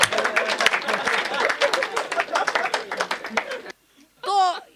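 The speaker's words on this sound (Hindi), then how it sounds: "तालियां बजा दो" Audience applause and clapping at a comic poetry gathering (hasya kavi sammelan), a dense burst of hand claps mixed with crowd sounds for about four seconds, then stopping abruptly before a voice speaks.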